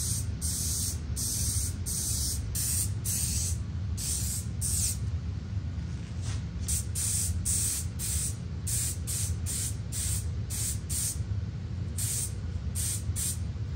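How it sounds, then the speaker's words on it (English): Several bursts of Scotchgard waterproofing spray are applied to an antenna, close and steady, each hissing puff separated by short gaps, with a continuous low rumble of background noise underneath and no talking. "You get some Scotch Guard waterproofing spray."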